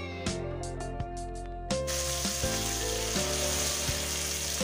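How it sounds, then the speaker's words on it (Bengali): Whole spices, chopped onion and tomato frying in oil in a wok, a steady close sizzle with a harmonic tonal hum underneath and a few brief sharp clatters; the crackle grows noticeably broader and louder partway through. "এবার কড়াইয়ে তেল দিয়ে ফোড়নে এলাচ, দারচিনি, শুকনো লঙ্কা, তেজপাতা, জিরে, পেঁয়াজ কুচি দিয়ে ভেজে নিয়ে টমেটোটাও একটু ভেজে নিচ্ছি।"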